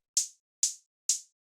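Synthesized hi-hat made from white noise shaped by a bandpass filter for a dark techno track: three bright, hissy bursts evenly spaced, each fading quickly, alone with silence between.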